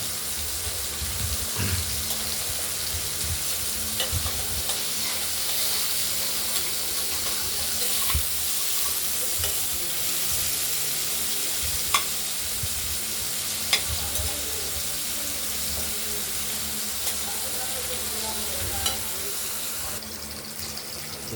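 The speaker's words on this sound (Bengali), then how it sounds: "উচ্ছেগুলোকে আমরা খুব সুন্দর করে ভেজে নিচ্ছি" Steady sizzling of bitter gourd frying in hot oil, a constant crackly hiss with occasional soft clicks and scrapes from stirring.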